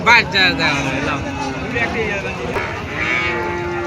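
A large cow moos loudly several times in a long, drawn-out call, close by, at a cattle market with a busy crowd of voices talking underneath.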